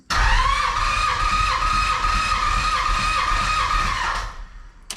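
An RB25 engine being cranked over on the starter for a compression test, a steady loud whirring drone with a high tonal whine that runs about four seconds and then cuts off abruptly.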